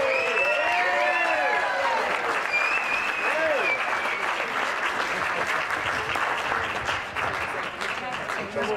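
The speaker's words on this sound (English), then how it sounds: "Give another round of applause." An audience claps steadily through a charity golf tournament awards ceremony, a dense, sustained round of applause with someone talking over it that slowly eases off toward the end.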